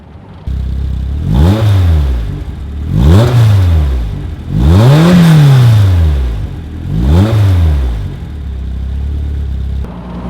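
A loud Caterham Seven 420R sports car engine revs up and down four times in a row, each rise and fall roaring close and strong.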